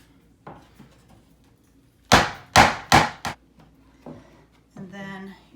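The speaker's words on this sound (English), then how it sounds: "So you just start your nail" A nail hammered into a wooden board for a DIY tray: a few light taps, then three loud sharp hammer blows in quick succession, followed by softer knocks nearby.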